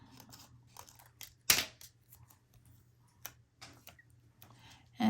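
Scissors trimming a paper cutout for a scrapbook album, quiet sparse snips and clicks, with one louder sharp cut standing out among the softer ones.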